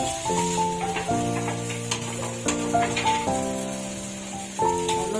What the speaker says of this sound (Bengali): টমেটো কুচি দিয়ে একটু নাড়াচাড়া করে নেবো।